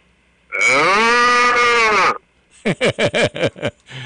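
A person imitates a cow on a morning radio show, first with one long drawn-out moo and then with a quick run of short, choppy moos. The voice is loud and close, with no other sound around it.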